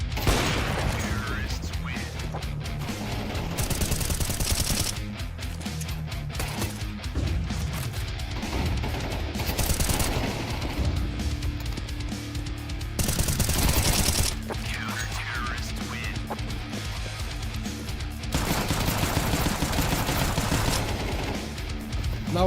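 Rapid bursts of automatic gunfire from a competitive shooter match come in several dense volleys with clattering impacts, loud and close, while a caster talks over the action throughout.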